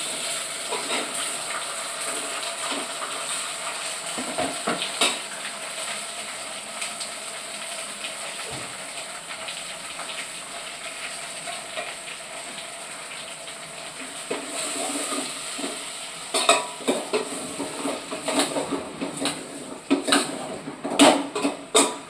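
Onion, tomatoes and radish fry for sambar in a pan, giving a soft, steady hiss with scattered scraping clatters from stirring that grow busier and louder toward the end.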